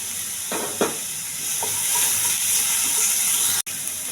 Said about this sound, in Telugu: కొంచెం దోరగా వేయించాలి